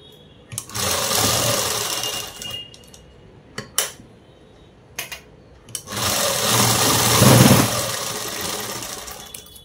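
A sewing machine stitches a box-style seam in fabric for a homemade garment, running in two sustained bursts with a steady whir and brief mechanical clicks and handling knocks between them, close and fairly loud.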